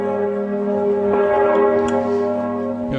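Church bells ring in a sustained, resonant peal, with rich humming overtones and a fresh strike partway through, loud and dominating.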